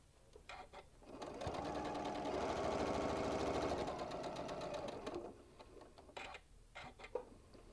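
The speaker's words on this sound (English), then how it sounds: "Now I've just got this last little inch to sew right here on between the orange and the red" A sewing machine stitches a small bean bag, running close and steady for a few seconds with rapid rhythmic clatter, then stopping; a few light clicks and handling noises follow.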